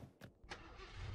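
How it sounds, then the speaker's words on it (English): A car engine cranks and catches in Far Cry 5, with a short starter burst, a brief pause, then a second crank that settles into a low idle, fairly quiet and with no talk. "Why did she get in and crank the car up?"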